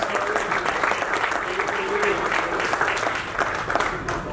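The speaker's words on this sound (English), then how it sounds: "let's give a round of applause" Steady applause fills a press conference room, a continuous patter of many hands clapping at even volume throughout with no pauses, with a faint murmur of voices underneath.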